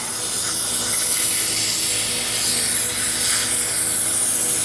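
Rust remover sprayed onto a rusty dirt bike chain, a continuous loud close hiss of aerosol spray running without a break.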